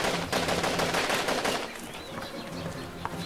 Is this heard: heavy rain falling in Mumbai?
no